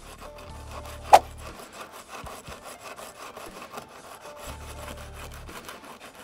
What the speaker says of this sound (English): I'm then going to take some 80 grit sandpaper and stick it in that crack just to smooth it out a bit